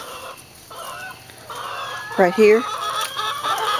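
Barred Rock chickens cluck and squawk nearby, a louder burst of hen calls in the middle, with a brief spoken remark and steady background noise.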